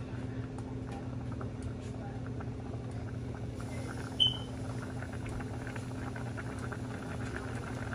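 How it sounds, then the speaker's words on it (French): Water in a frying pan heating on a stovetop burner, a low steady hiss and faint simmering bubble with a constant hum beneath, interrupted once by a brief sharp click partway through. "Je laisse chauffer ma poêle. Vous allez voir que l'eau qui est à l'intérieur, ça va se dissoudre"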